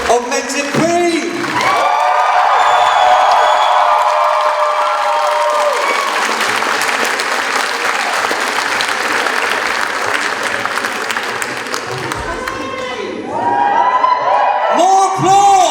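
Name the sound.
audience applause and cheering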